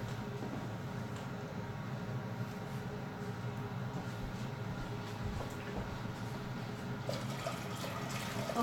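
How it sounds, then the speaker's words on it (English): Tap water runs steadily into a cooking pot in a kitchen, giving a faint, continuous rushing hiss throughout. "Fill up the pot with water."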